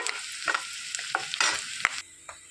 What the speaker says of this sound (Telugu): కొద్దిగా కరివేపాకు వేసుకొని వేయించుకోవాలి.